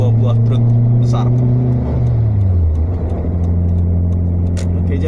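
Car engine droning steadily while overtaking two big trucks on the Dawan road, with a steady low hum whose pitch drops midway, someone talking over it throughout.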